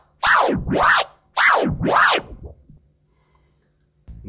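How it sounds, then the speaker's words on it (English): Baby scratch on a vinyl record, four quick back-and-forth swipes in a steady rhythm, each rising and falling in pitch, close and loud, then silence. "With the baby scratch, all we're going to do is move the vinyl from the 12 o'clock position around about to the 1"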